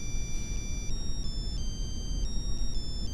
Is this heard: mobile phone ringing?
yes